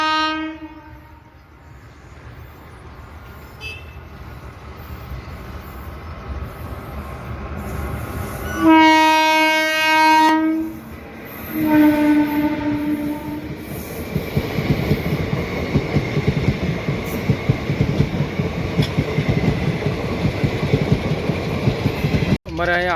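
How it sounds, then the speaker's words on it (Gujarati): A train rolls past a railway level crossing, its loud horn sounding in sustained blasts midway, followed by a steady, close rumble of wagons and wheels, with talk in the background. "બીજી ટ્રેન નીકળી જ છે,"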